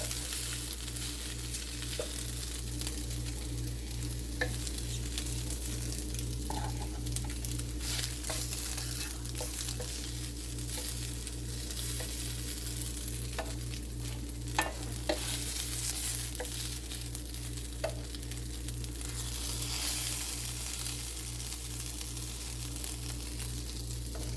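Diced food sizzles and crisps in a hot pan, a steady close-up frying hiss broken by occasional scraping clicks from stirring, with no voices.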